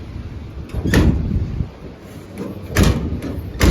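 A used truck tool box door fitted with a new lock cylinder is pushed shut, giving a few sharp metallic clunks and latch knocks at close range, spaced over a few seconds without speech.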